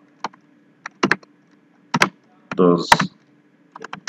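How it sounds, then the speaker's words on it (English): Computer keyboard typing while entering HTML code for embedding video in a web page table, heard as scattered clusters of key clicks, close and moderately loud, with a brief burst of speech in the middle. "So I'm going to type this"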